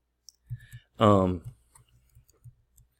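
A computer mouse gives several light, close clicks at irregular intervals, with a brief burst of voice partway through.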